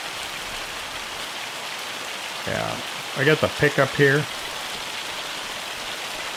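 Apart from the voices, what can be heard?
rain falling in Farming Simulator 25 video game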